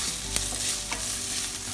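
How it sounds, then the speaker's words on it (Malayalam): Crushed ginger and garlic sizzle steadily in hot oil in a pan, with a few sharp scraping clicks of a spoon stirring through the frying, close and continuous with no voices. "ഇഞ്ചി ചതച്ചതും വെളുത്തുള്ളിയും ഇടുക. ഇട്ട് ഇളക്കിക്കൊണ്ടിരിക്കുക."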